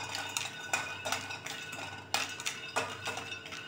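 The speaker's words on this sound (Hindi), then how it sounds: "ध्यान रखिएगा इन्हें कॉन्स्टेंट चलाते रहिएगा और उसी के साथ हमें ड्राई रोस्ट करना है।" Peanuts dry roast in a kadhai without oil while being stirred constantly, giving a series of quick rattling scrapes and clinks against the metal at an irregular rhythm, close and fairly clear.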